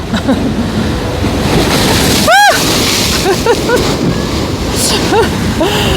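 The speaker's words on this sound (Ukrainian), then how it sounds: "Іде хвиля велика, зараз буде щось страшне." A big sea wave crashes and splashes onto the shore at Lanzheron beach in Odesa, a loud broad roar of surf filling the whole stretch, with a brief sharp cry and faint voices over the water.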